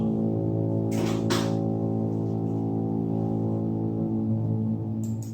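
Trumpet or horn sound effect for the trumpet blast at Mount Sinai: one steady, sustained low droning tone, loud and unbroken for about five seconds, with a few faint brief noises above it and no speech.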